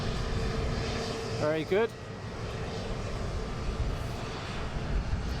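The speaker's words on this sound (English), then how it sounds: "wait for this aircraft to taxi up and get ready for departure" A jet airliner taxiing at London Luton Airport, its steady low engine roar lasting throughout, with a brief voice cutting in over it partway through.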